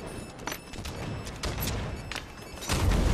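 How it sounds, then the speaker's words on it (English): Grenade explosions and gunfire in Halo 5 Guardians multiplayer, a busy stretch of close booms and crackling bursts with a heavier low thump near the end. "And there we go, I get grenaded."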